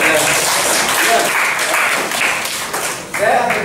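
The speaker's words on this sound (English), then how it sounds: "We have to give applause" Applause from a group at a visit by the English Department of Sanata Dharma University, Jogjakarta, loud and steady with a brief dip near the end, with some voices mixed in.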